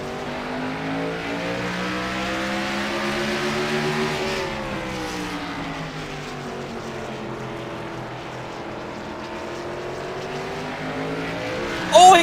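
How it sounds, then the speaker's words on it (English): Race cars circle the Martinsville short track in a racing video game, engines whining loudly in layered rising and falling tones as the pack passes, with a brief sharp squeal near the end. "Demos trying to reel in the Miller Energy, number 99 car"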